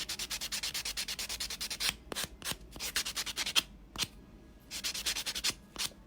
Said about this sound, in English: A good old buffing process.